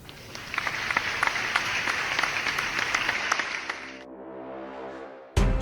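Delegates at a financial workers' union branch's annual national delegates' convention give a big, dense round of clapping that runs steadily for about four seconds, then fades out into a quiet room with a brief thump at the end.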